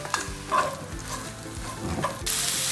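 Chopped onions tipped into hot oil with frying ginger, garlic and green chillies for a Kuttanadan duck curry, crackling with a sustained sizzle and scraped, clattering stirs; a louder hiss surges near the end as the onions hit the pan.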